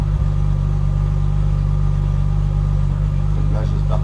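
A BMW E30 six-cylinder engine idling with a stainless sport muffler, a loud steady low-pitched rumble close by with an even pulse and a slight rise near the end.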